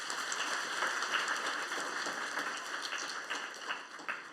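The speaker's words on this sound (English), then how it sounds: "Another round of applause." Audience applause at a building and stupa inauguration ceremony, fairly soft and distant, a steady patter of many hands clapping with a few louder claps near the end.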